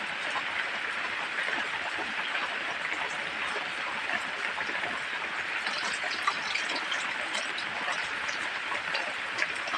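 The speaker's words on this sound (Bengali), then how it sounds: "এবার বাকিগুলো আমি এইভাবে সব অল্প অল্প করে ভেজে নেব" Khasta goja sweets deep-frying in a kadai of hot oil, a steady dense bubbling sizzle that holds at an even moderate level throughout with no talk.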